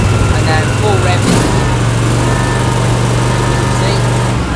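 A Husqvarna R420TSX AWD ride-on mower engine held at full revs, a loud, steady drone that continues unbroken throughout, with a short bump near the start.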